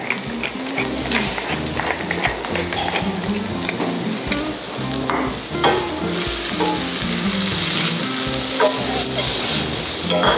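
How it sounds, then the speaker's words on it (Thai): Fennel stir-fried fast over high heat in a wok, a constant close sizzle with scraping stirs and tossing, heard over background music. "เราผัดไฟแรงอย่างเร็ว"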